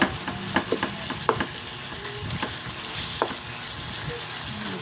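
Shrimp paste (bagoong alamang) sautéing with pork in a pan, a steady sizzle and crackle with occasional scrapes and taps of a stirring utensil, close and continuous.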